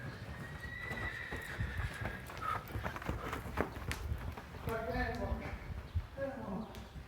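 A horse named Maisie whinnies and snorts, with hooves clip-clopping in a slow walking rhythm nearby, while people talk over it.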